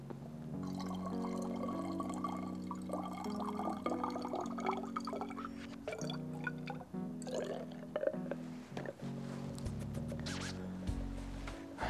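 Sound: water being added to a lab flask

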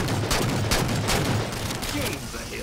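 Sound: gunfire in the video game Halo 4

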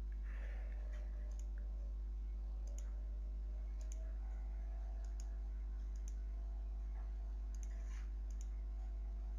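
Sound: computer keyboard key clicks

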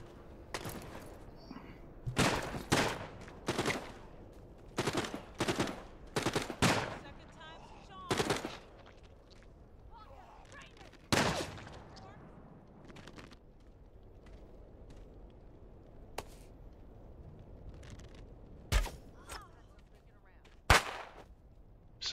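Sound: gunfire in the video game The Walking Dead: Saints & Sinners

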